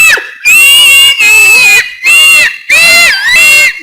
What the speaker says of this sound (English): that's why she was shouting